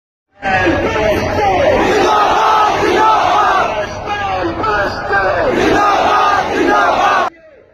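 A huge crowd at a Dhaka rally for Gaza chants Free Palestine slogans, a loud, rhythmic wall of massed voices that rises and falls for several seconds before cutting off abruptly.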